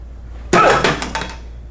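A hammer fist strike breaks a board with one sharp, loud crack and a short rattling decay, alone against near silence.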